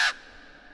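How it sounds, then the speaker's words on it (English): A raven's harsh croak bursts out loud for a moment as a sound effect in a dramatic reading of Poe's poem The Raven, then fades quickly into a faint lingering tail. "Quoth the raven"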